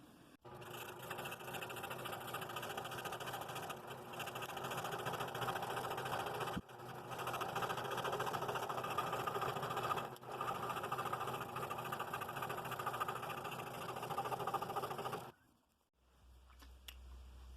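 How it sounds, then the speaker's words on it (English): A scroll saw fitted with a number 5 blade cuts steadily through a wood block, its motor buzz and rapid blade chatter running loud and continuous for about fifteen seconds with one brief dip, then stopping. "I'm going to stick with a scroll saw on this and cut that as straight as I can."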